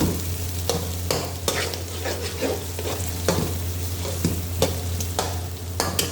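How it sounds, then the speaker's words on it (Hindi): Onion, ginger and garlic fry in a pan while being stirred, with a steady sizzle and repeated scraping strokes of a spoon at an uneven rhythm, close up and loud, with no voice. "ये प्याज, अदरक लहसुन इस तरह हल्का सा लाइट ब्राउन सा हो गया है।"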